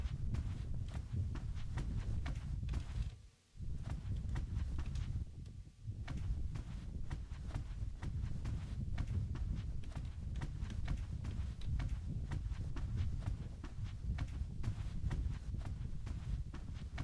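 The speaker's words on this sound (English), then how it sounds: "I think that might just be my footsteps." Steady stream of footsteps walking through an eerie Dreamcore: Playrooms environment, a continuous rhythmic patter of steps at close range with two brief pauses, no talking over it.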